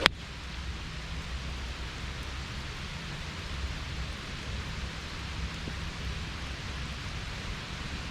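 Steady, even heavy rain falls on a golf course throughout, a soft broadband hiss with no voices and no change in intensity.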